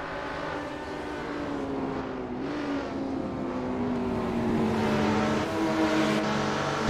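A pack of touring cars in the Assetto Corsa racing game roaring away from the start at Silverstone, several engines droning and climbing in pitch together, loud and continuous.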